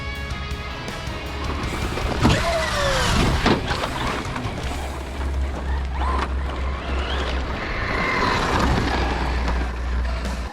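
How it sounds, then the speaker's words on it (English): A Traxxas Raptor-R 4x4 RC truck blasts through dirt with a loud whining motor and rushing, gritty surges, the engine note rising and falling as it tears across the ground. "this is what I absolutely love doing with this truck, blasting through the dirt"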